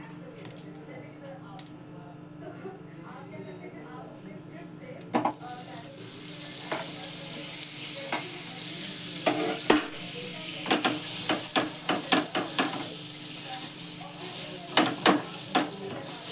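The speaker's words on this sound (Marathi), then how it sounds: "पण थोडेसे गरम करणार आहे मी बटर लावून" Bakery pav buns heated in butter on a hot pan for misal pav break into a steady sizzle partway through, with spatula scrapes and clinks on top, after a quieter stretch of low kitchen sound with faint voices.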